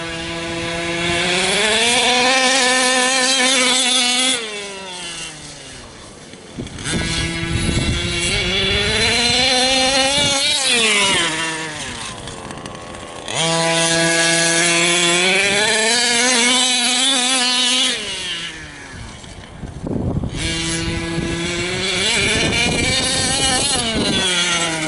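A Losi Five B RC car's OBR 32cc two-stroke engine is revved hard during break-in, a loud buzzing whine that climbs and falls through repeated throttle blips with brief idle dips between bursts.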